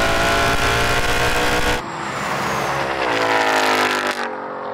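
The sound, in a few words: Mustang V8 and BMW M2 accelerating in drag race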